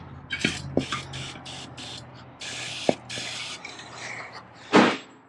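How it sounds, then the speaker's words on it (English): Brake cleaner hisses from an aerosol can in a series of short, sharp bursts onto a motorcycle engine part near a cam chain tensioner, with faint clicks and a louder final blast. "I'm gonna spray it off some brake clean"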